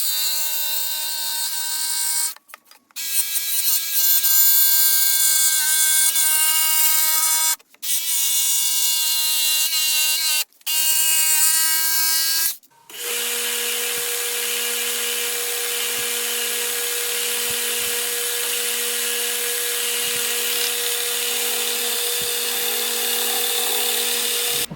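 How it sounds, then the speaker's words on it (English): Power tools working cabinet wood for a DIY Shaker cabinet: a loud, high-pitched electric whine runs in long bursts broken by brief stops, then settles into a steadier, lower-pitched drone, with no talk. "We're going to cut this with a jigsaw and sand"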